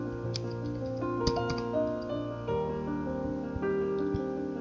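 Quiet, fast clicking of keys on a computer keyboard, irregular taps in short bursts against a faint steady background hum.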